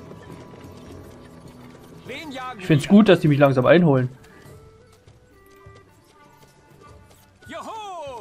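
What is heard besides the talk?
horse hooves clip-clopping in Stronghold Warlords video game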